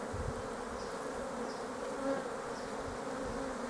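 Honey bees at an open beehive, a steady close buzzing drone with single bees flying past now and then, and no voices.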